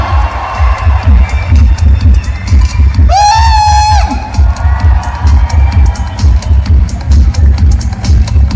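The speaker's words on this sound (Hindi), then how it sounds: "जोरदार तालियां हैं आवाज से" A large crowd claps and cheers loudly in a steady roar, with a high whoop or whistle rising above it for a moment.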